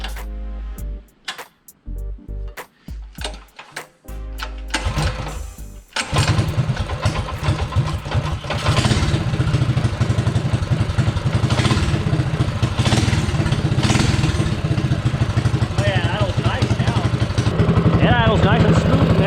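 A small mini bike engine is pulled over with several sputtering attempts, then catches and settles into a loud, steady, fast idle that runs on for a long stretch.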